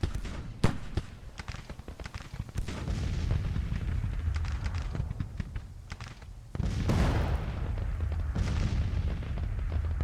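Artillery fires in the Civil War strategy game Grand Tactician: The Civil War, with repeated booming cannon shots and crackling volleys over rumbling battle ambience, one louder burst near the end.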